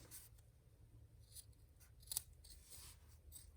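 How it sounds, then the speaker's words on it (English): Scissors make small snips through fabric while sewing an embroidered bag. The cuts are quiet and close, a few short crisp clicks over low background hum, with one sharper snip in the middle. "take my scissors and just do like a little small snippet"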